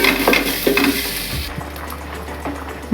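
Cashews and raisins frying in a pan beside a pot of payesh being stirred, a steady close sizzle with scraping stirs that drops to a quieter simmer partway through.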